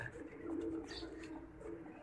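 A pigeon coos softly nearby, a low throaty warble repeated a couple of times over quiet background.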